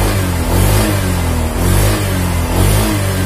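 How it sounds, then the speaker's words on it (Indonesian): A Honda Vario 125 scooter engine held wide open at full throttle, a loud, close, steady buzzing drone with slight waves in pitch, running continuously without any talk. "Saya gas mentok."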